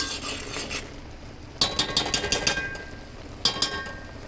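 A utensil stirs melting butter in a pan as it turns into ghee, a quiet sizzle under bursts of rhythmic metallic scraping and clinking against the pan.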